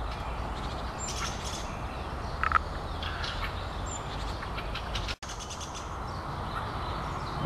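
Birds chirp in a Moscow park, scattered short tweets and calls sounding at a moderate distance over a steady outdoor background hiss, with a brief dropout near the end.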